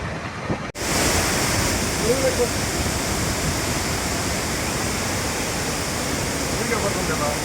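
Rushing water from the flooded Penna river and sea waves during a cyclone near Nellore: a loud, steady broadband roar that starts after a brief dropout and continues unbroken, like surf and wind.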